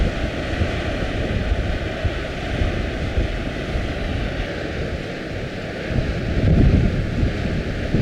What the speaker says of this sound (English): Very strong gusts.